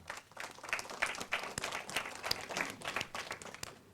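Audience at a forum applauding, a dense patter of many hands clapping steadily for several seconds at moderate distance.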